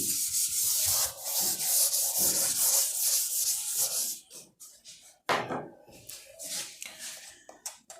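A board being rubbed clean of writing during a maths lesson, with steady scrubbing strokes for about four seconds, then shorter, broken rubs after a brief pause. Close and fairly loud, with no speech.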